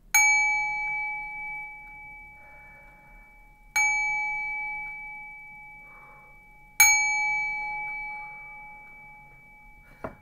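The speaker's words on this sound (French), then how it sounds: "Et 3 petits coups de gong pour tout purifier." Three separate strikes of a small gong, each a bright ringing tone that slowly decays, spaced about three seconds apart in an otherwise quiet room.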